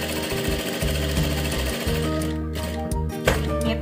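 A sewing machine stitches men's trousers with an elastic waistband in rapid, rhythmic bursts of mechanical clatter, pausing briefly between short runs.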